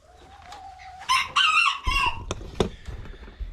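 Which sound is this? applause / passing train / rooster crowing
rooster crowing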